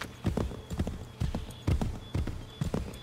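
Horse hooves clip-clop in a steady, fairly close rhythm while a rider travels through the Assassin's Creed 3 game world, with soft game ambience running underneath.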